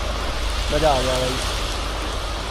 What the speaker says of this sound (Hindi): अभी बारिश हो रही है बाहर